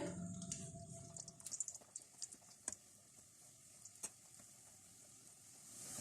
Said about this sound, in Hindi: अब हम ऐसा करेंगे कि जो भटूरे हमने बेल के रखे हैं ये इसमें फ्राई कर लेते हैं।